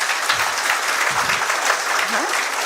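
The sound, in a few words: audience applause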